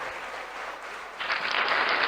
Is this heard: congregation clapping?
yes